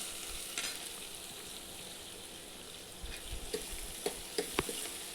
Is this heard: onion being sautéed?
yes